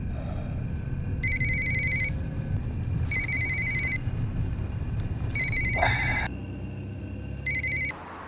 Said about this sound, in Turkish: Aç şu telefonu bir aç.